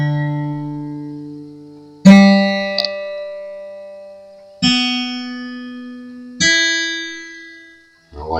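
A single steel string on a Taylor 724ce LTD acoustic guitar is plucked several times during tuning, each note ringing out close and clear and slowly decaying, with the pitch shifting slightly between plucks as the string tension changes.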